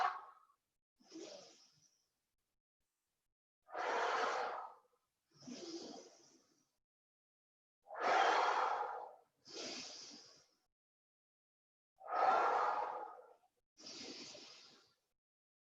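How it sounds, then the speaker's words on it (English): Slow guided breathing during a pregnancy yoga session, with four cycles of a nasal inhale followed by a longer, airy exhale through the mouth, close and clear with silent pauses between the breaths. "Breathe out through your mouth. Inhale through nose."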